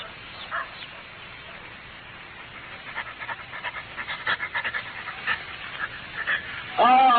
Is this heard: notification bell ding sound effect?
no